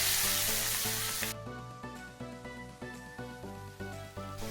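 Onions and cumin seeds fry in hot oil in a kadai, a dense, close sizzle that is loud at first and then sinks under steady tonal music with rhythmic pulses.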